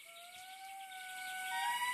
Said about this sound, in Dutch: Enkele hulpgidsen probeerden de dieren te lokken met lange fluittonen.